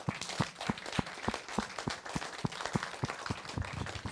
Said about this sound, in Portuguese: E fazemos um aplauso para a nossa colega.